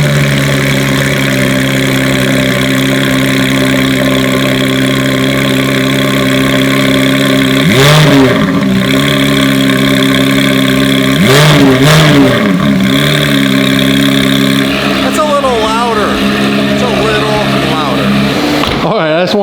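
A Ferrari F12 fitted with a JCR race exhaust and stage 1 tuning sits close by, its loud engine idling steadily and then revving sharply several times, with speech heard over the engine.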